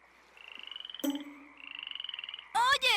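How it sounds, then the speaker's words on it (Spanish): Frogs croak in a rapid pulsing trill, close and fairly loud, in two long bursts broken by a short gap. A sharper bird-like call cuts in at the end. "¡Ranas!"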